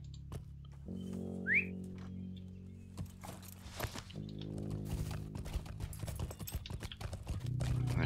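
Horse hooves clip-clopping in the online game The Lord of the Rings Online (LOTRO), a steady rhythmic trot under game music with a brief whistle, close and moderately loud.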